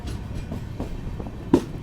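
Mandovi Express train moving between Madgaon in Goa and Mumbai, just after leaving Sawantwadi, with a steady low rumble of the carriages and a short louder knock near the end.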